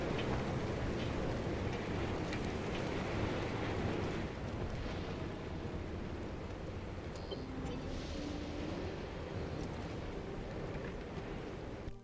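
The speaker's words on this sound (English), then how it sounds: "Sure is windy out." Wind blows steadily and loudly around a car in Pacific Drive, a continuous broad rush with a low engine hum beneath it and no talking.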